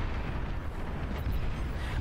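Plasma cannons fire during a large battle in the real-time strategy game BAR, heard as a dense, continuous rumble of booming blasts that blend into a steady roar.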